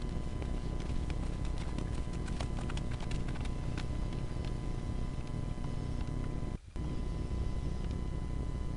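Steady clip-clop of a Missouri Fox Trotter horse's hooves on soft arena ground at an even trot, close and continuous throughout, with a constant background hum.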